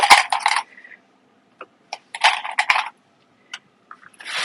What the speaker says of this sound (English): I'm just going to use clips to hold the top edges together